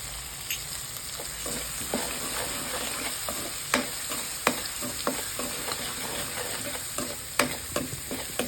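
Urad dal and chana dal sizzle steadily in hot oil in a pan for a poha tempering, a close, continuous frying hiss broken by occasional sharp crackles and pops.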